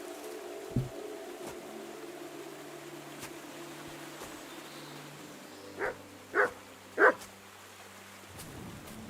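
Mutt the dog in Kingdom Come: Deliverance II gives three short barks in quick succession near the end, over a quiet low hum with faint patter like rain.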